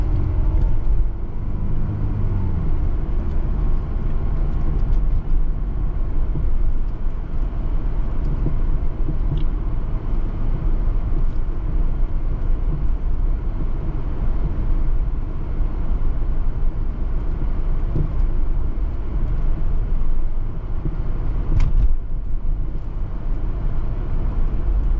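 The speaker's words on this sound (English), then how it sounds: "The video probably you're gonna hear the car air condition." A car's air conditioning runs inside the cabin, a steady broadband whoosh and low rumble holding constant throughout, with no speech over it.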